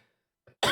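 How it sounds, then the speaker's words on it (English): A short, sharp cough bursts out after near silence, preceded by a faint breath or throat noise. "Fuck, I cough."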